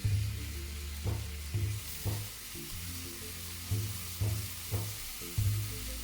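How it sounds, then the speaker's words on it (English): Onion and carrots frying in olive oil in a pan for ramen, a steady close sizzle with repeated soft stirring pulses on top, no voices. "Add the onion, add the carrots"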